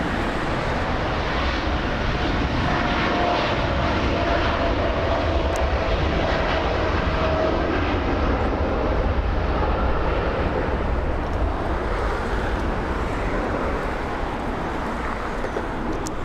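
Lufthansa Airbus A380 jet engines at LAX ahead of takeoff: a loud, steady, broadband roar and rumble that holds unbroken throughout, with a faint whine riding on top.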